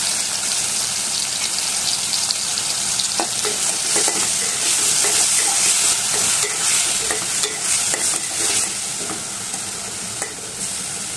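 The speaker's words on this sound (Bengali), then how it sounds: "এখানে পেঁয়াজ, রসুন, আদা বাটা একসাথে ব্লেন্ড করে নিয়েছিলাম, ওগুলো দিয়ে দিচ্ছি 2 টেবিল চামচ।" A blended paste of onion, garlic and ginger fries in a pan for a Bengali winter vegetable dish. A loud, steady sizzle carries on throughout, broken by scraping stirs and spattering crackles.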